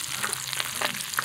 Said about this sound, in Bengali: আস্তে আস্তে মাছগুলো ভাজা হতে থাক